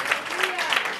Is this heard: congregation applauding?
yes